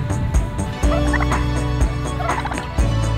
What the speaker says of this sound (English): We're gonna face the wrath of the turkeys here.